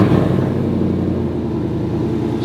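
Engine of a lifted, squatted show truck on 26x14 wheels idling just after startup, a steady loud close rumble with a faint rev swell near the end.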